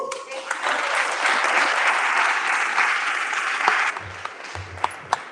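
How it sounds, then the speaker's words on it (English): Steady applause from an audience fills most of the moment, then thins out into a few scattered claps at the end. "give it up for Heidy, everybody"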